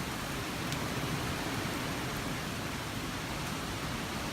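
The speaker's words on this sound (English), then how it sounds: "It is really downpouring, and we're in the middle of an Arizona monsoon." Heavy Arizona monsoon downpour with strong wind gives a dense, loud, unbroken wash of rain noise, close and steady with no pauses and no voices.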